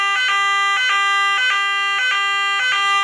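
An old fire alarm siren from a Nugelec type 2a fire alarm panel, dating from 2000, sounds loud and close in a rapid repeating two-tone pattern of short bursts that pulse evenly throughout.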